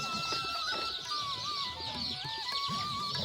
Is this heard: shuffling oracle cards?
no